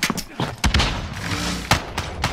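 An MG42 machine gun fires in the video game Call of Duty Modern Warfare, giving loud, close bursts of sharp repeated shots in irregular clusters. A busy game soundtrack runs underneath.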